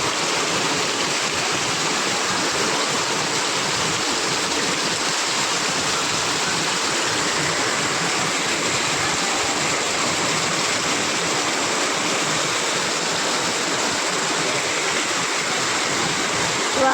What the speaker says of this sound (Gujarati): જોરદાર વરસાદ પડી રહ્યો છે હાલમાં.